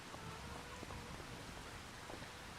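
Steady rain falls in Farming Simulator 25 on a farm with corn and sunflowers, a soft, even hiss of drops spread across the scene at low volume, with no talking.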